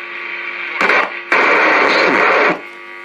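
A valve radio broadcast comes through a homemade passive signal tracer as a loud, steady stream of sound, with a brief dip early on before it swells back up and then drops to a lower level near the end.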